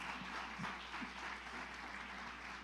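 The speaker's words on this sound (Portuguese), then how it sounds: "Aplauda a vida deles." A church congregation breaks into applause, a faint, even patter of many hands clapping together in a large room, lasting a few seconds without a break.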